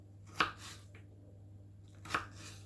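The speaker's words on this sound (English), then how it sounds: "split the difference until all your potatoes are sliced. Into the size of McDonald's fries." A knife cuts raw potatoes into thin fry-sized sticks, giving two crisp, quiet chops about two seconds apart in a hushed kitchen.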